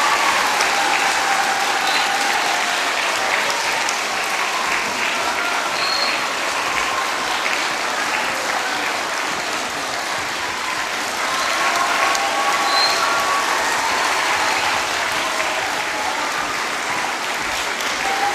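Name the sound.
audience applause at children's song festival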